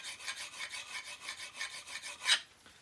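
A blade is rubbed back and forth on a diamond sharpening stone in about a dozen even, rasping strokes, close and quiet. A final harder scrape comes before it stops.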